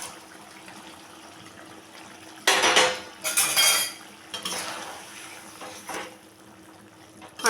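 Fried paneer drops into a simmering sesame, potato and pointed gourd curry, bringing bursts of clattering utensils and stirring against the pan, loudest midway, then quieter scraping and faint bubbling.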